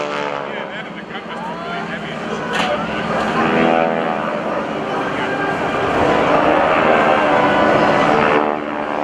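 GEICO Skytypers airshow aircraft pass overhead, a loud sustained propeller-engine roar that swells and fades, under a commentator's voice.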